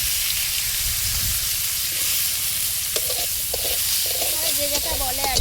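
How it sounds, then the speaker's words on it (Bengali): Snake gourd pieces fry in oil left from frying fish, a loud continuous sizzle with scattered pops and crackles throughout. "ওই তেলে চিচিঙ্গাগুলো ভেজে নেব"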